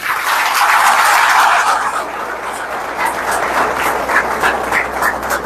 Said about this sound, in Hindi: तो एक बार आप सबके लिए जोर से तालियां बजाएंगे।